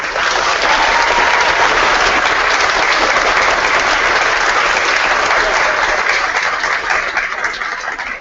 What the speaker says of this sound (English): give them a thunderous round of applause for what they have done for you